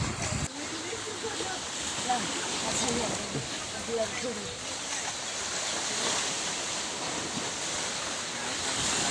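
Surf washing up on a shore in the Philippines during the El Niño dry season, a steady broad roar with gusty wind buffeting the microphone and faint voices mixed in throughout.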